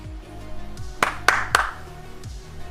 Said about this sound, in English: Clap on. Clap off.